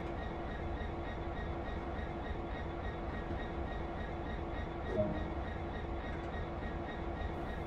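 EM2000 locomotive in Train Sim World, a steady low rumbling hum of the idling engine and rail noise, continuous and even with one faint click midway.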